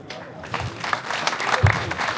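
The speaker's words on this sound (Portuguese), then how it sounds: "Então vamos também receber com um aplauso este nosso amigo" Audience applause welcoming a performer onto a stage at an evening show, a short burst of clapping from a crowd, moderately loud with scattered sharper claps and no talk.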